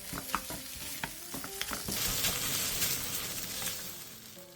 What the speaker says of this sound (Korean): 골고루 볶아졌으면 진간장 1스푼을 둘러준 뒤 다시 한번 골고루 볶아주세요.